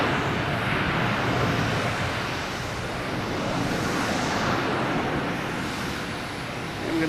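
A Delta Airbus A320neo arriving from Seattle at Boston Logan gives a loud, steady jet roar that swells and eases slightly as it passes, with no talking.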